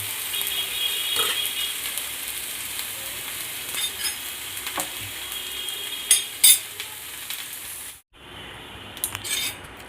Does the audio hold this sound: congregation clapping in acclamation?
no